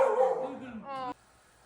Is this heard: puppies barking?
yes